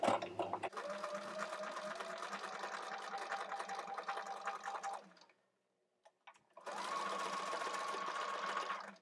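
A sewing machine stitches microsuede fabric for doll leather jackets and skirts in two runs: a sustained whir of nearly five seconds, a short silent pause, then a second steady run to the end.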